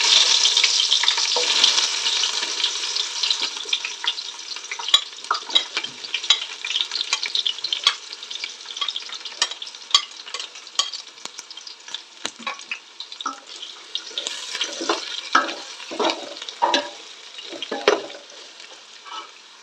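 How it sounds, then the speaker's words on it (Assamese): Marinated chicken and onions fry in hot oil over a low flame, a steady close sizzle broken by frequent stirring clatters and scrapes of a spoon against the pan. "এতিয়া মই এই মেৰিনেট কৰি থোৱা মাংসখিনি ইয়াত ধুনীয়াকৈ ভাজি ল'ম।"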